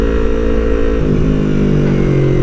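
Yamaha YZF-R25 motorcycle engine on a test ride in Indonesia, a loud, steady mid-pitched drone running close and unbroken throughout, with a slight shift in pitch partway through as the revs change.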